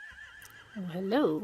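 A horse whinnies, rising and wavering, as a person speaks briefly over it; a game-like ambience from The Walking Dead: The Final Season sits underneath.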